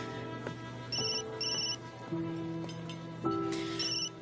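A telephone rings with a melodic ringtone, a sequence of clear electronic tones stepping up and down in pitch, moderately loud and close with no talk over it.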